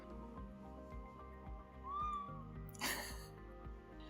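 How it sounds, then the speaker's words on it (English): A small cat gives a short, faint meow partway through, over steady background music. "I have this cute little cat for you."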